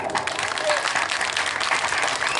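Dense, steady applause from a crowd at a Tamil village stage drama (nadagam) performance, sustained and fairly loud throughout with a voice faintly mixed in.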